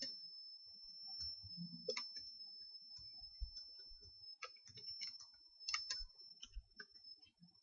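Computer mouse clicks, close and quiet: a scattered series of light, sharp clicks at irregular intervals over a faint steady tone, with no talk.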